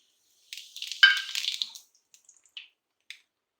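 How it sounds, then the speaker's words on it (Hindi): Cumin seeds drop into hot ghee in a pan, giving one sharp sizzling burst that quickly fades into a few faint, scattered crackles in an otherwise quiet kitchen. "अब इसमें हम डालेंगे ये ज़ीरा।"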